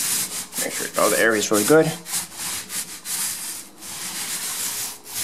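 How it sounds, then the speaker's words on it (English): A paint roller applying screen paint to a drywall surface, a rough repeated rubbing and squeaking with each stroke, close and steady, while someone talks briefly over the start. "That's my roller making that weird noise."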